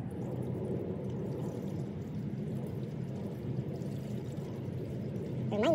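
Antifreeze coolant pours into the radiator of a 2013 Dodge Journey in freezing weather, a soft, low, steady gurgle that swells slightly near the end.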